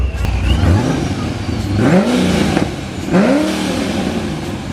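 A loud car engine revs up repeatedly in bursts, each rising and falling in pitch, with a rough idle rumble between revs, close by.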